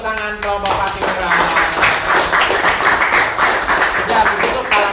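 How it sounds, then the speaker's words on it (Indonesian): A classroom full of students applauding one group after its presentation: a short spoken phrase, then a burst of dense, steady clapping that carries on for several seconds. "Kasih tepuk tangan kelompok Patimura."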